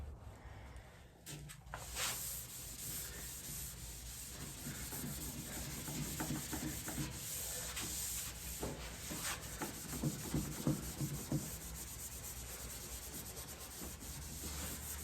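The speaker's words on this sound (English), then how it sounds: "Use the green Scotch-Brite pads. They're a little less aggressive than red." Green Scotch-Brite pads scuff the bare metal of a 1974 Ford Bronco tailgate, a steady close rubbing and sanding with uneven strokes that carries on throughout.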